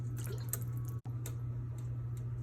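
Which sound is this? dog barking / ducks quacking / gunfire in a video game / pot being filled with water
pot being filled with water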